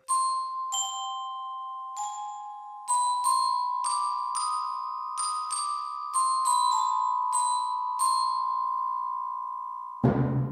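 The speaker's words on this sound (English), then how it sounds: "And the Glockenspiel." Glockenspiel from the Iconica Sketch orchestral sample library, tapping out a slow melody of high, pure metallic tones with long ringing sustain, close and clear with no speech.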